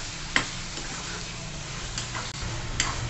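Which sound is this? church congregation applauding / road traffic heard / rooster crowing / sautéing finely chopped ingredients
sautéing finely chopped ingredients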